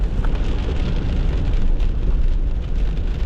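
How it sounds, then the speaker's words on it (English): Steady, dense rain pouring down, a continuous loud hiss and patter with no breaks and no voices. "and it's raining again."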